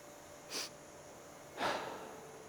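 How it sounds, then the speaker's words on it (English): A yoga double breath is performed close by: a short deep inhale, then a longer audible breath out through the mouth, two soft airy rushes over a quiet room. "So double breath, it's one deep inhale, another deep one but shorter,"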